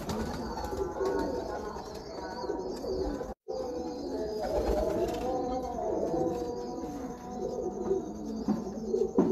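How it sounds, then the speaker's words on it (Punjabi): A Teddy breeder pigeon coos amid a loft of other pigeons, continuous throaty calls close by with a brief dropout partway through. "ਲਓ ਜੀ ਇੱਕ ਹੋਰ ਕਬੂਤਰ ਦਾ ਸ਼ੌਕ ਕਰੋ ਟੈਡੀ ਕਬੂਤਰ ਦਾ"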